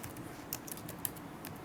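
Quiet, close tapping of a computer keyboard while text is entered into a PowerPoint text box, with a few light, irregular keystrokes spread over a short stretch.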